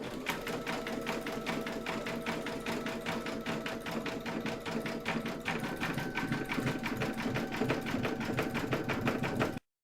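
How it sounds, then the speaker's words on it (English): Embroidery machine satin stitching around a poodle design in white thread, a fast, steady mechanical needle rhythm running loud and close throughout, with no voices. "Load your matching bobbin and thread colour for the satin stitching around the poodle into your machine, and then stitch round number 10."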